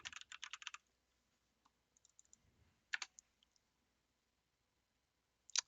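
Clacky computer keyboard typing heard close up during a Rocket League tournament information stream: a rapid burst of clicking keystrokes at the start, a few scattered taps, another short cluster near the middle and a final burst at the end.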